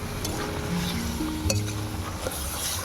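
Marinated chicken being stirred and fried in a pan for chicken moharani, a steady low sizzle with occasional scrapes and clinks of a spoon against the pan, close and fairly quiet.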